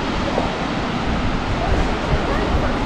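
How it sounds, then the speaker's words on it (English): Dense, constant rushing roar of a small waterfall in Krka National Park, Croatia, broadband and unbroken, with faint wind buffeting the microphone. "that's the waterfall. The small one."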